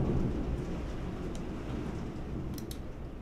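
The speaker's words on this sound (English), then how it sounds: "It's like the ASMR rain for calm studying" Steady rain hissing with rolling thunder in Old School RuneScape, a dense, calm storm ambience with a few brief crackles and no voices.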